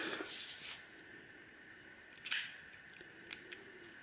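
Faint scraping and small clicks of a utility knife prying and cutting into the plastic shell of an ink cartridge, with a few sharper snaps near the end.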